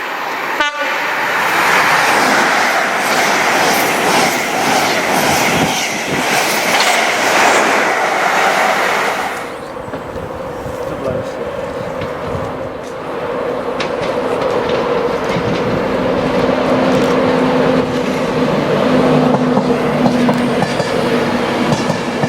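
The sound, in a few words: train passing through Peterborough station at high speed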